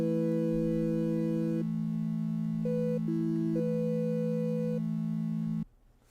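Sustained organ-like chord from a tiny keyboard, a low held note under shifting upper notes that change a few times before cutting off abruptly, close and alone.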